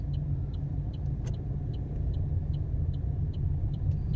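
A learner's car pulls away in first gear and accelerates during a driving lesson, a steady low engine rumble from inside the cabin, with a faint ticking indicator repeating throughout.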